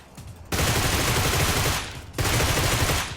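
Gunfire in PUBG Mobile, with two sustained bursts of rapid automatic fire, loud and close, separated by a short gap, no voices.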